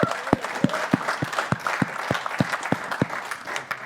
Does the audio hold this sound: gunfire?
no